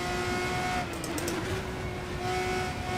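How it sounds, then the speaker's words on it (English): A steady, loud race car engine drone in the video game Assetto Corsa, with a sustained pitch, briefly dipping and rising as it revs, with no talking. "This car sounds good."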